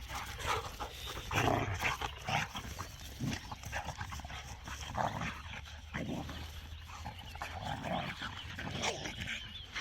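On a farm, several dogs play roughly together and pant heavily. Their scuffling, breathing and occasional whimpers are steady and close for the whole stretch.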